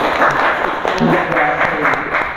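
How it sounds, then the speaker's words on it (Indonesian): An audience claps at a village legal and social empowerment talk, a short burst of applause mixed with voices and cheering over it. "Tepuk tangan."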